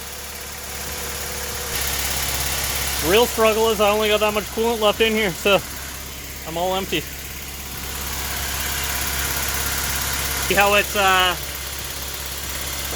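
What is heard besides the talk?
Honda H22 car engine idling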